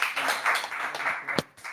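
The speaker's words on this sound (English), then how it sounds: "let's do a little round of applause" Scattered clapping from a small audience at a live show, a short burst of hand claps lasting under two seconds with one sharp clap near the end.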